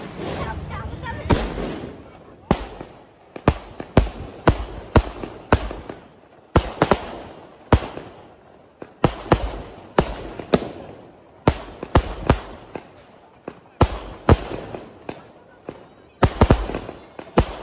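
Firecrackers burst one after another during a Lakshmi Puja celebration, loud sharp bangs irregularly spaced across the stretch, with people talking faintly between blasts.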